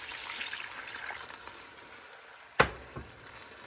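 Water poured into a hot pan with pork and soup for a 1956 California casserole: a steady faint sizzle and hiss, then a sharp loud splash burst near the end with a brief crackle after.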